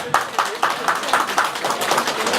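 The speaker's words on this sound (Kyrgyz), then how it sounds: "Ушуларга кол чабып коюңуздар эми эки кудага." Audience clapping in honour of the two in-laws at a Kyrgyz wedding celebration, a steady run of claps with regular sharp peaks that lasts the whole clip and sits under some background voices.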